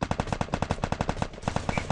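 Rapid bursts of automatic gunfire in a video game shooting match, a fast regular rhythm of shots with a brief pause midway.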